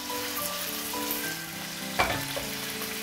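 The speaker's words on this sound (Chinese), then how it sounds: "把猪扒呢先煎一下" A marinated pork chop pan-fries in oil over medium heat, giving a steady close sizzle with a brief louder crackle partway through and no talk.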